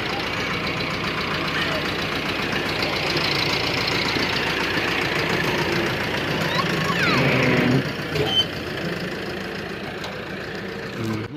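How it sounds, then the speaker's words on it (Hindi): The new sugarcane sowing vehicle's engine runs at a steady knocking idle, close and loud, with someone talking over it and the drone dipping briefly toward the end. "गाड़ी का आवाज़ बहुत प्यारा है माशाल्लाह।"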